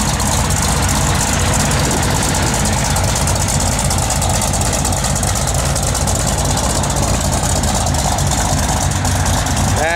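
A 1971 Plymouth Cuda idles loudly and steadily up close with a dense, rumbling engine tone that holds throughout, and no voices break through.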